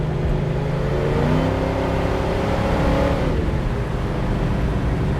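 A 1970 Chevrolet Nova's 502 engine accelerates steadily from inside the cabin, a loud, constant droning whir that climbs in pitch and then eases.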